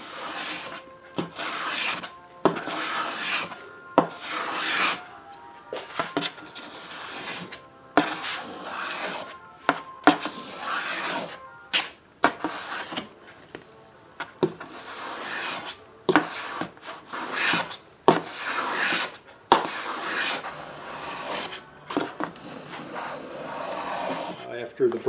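Wooden back braces for a dreadnought guitar are shaped and curved by hand, giving repeated close rasping and rubbing strokes in an irregular rhythm with brief pauses between passes.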